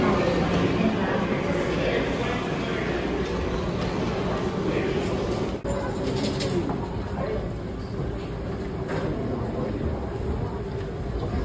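A continuous, loud broadband rumble and rolling hiss fill the inside of an airport people-mover train at Atlanta airport, with a short jolt midway and faint background voices.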